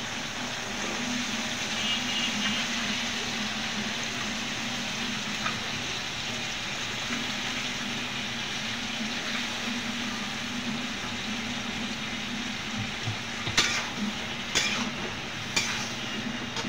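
Potatoes and eggplant frying in hot spiced oil for a Bengali fish curry: a steady, dense sizzling hiss that runs throughout, with a few sharp clicks near the end.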